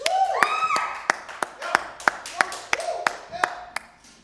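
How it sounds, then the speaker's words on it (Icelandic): Sharp, sparse claps ring out in an uneven rhythm at an election-night gathering, mixed with a raised voice calling out at the start and a few taps. "Gefum henni gott klapp."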